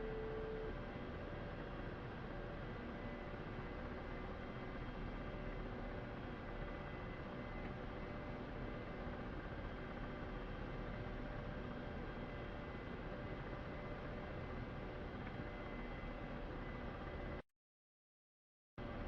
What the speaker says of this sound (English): let me settle the aircraft here.